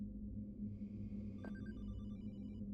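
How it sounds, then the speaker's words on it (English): A distant telephone rings in the video game Hollowbody, a thin electronic trill under a heavy low ambient drone and hum. "There's a phone ringing somewhere."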